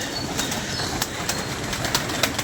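Pigeons flutter with repeated bursts of flapping wings amid a constant noisy background, with soft cooing faintly mixed in.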